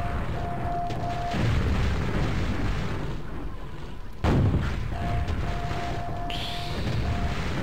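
Loud, dense rumbling blasts fill the scene, with a heavy boom near the middle and a sustained roar of explosions throughout, from the game Quake.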